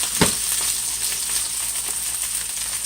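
Steady, close hiss of salmon frying in a hot skillet with a little oil, an even sizzle running throughout with one brief louder crackle near the start.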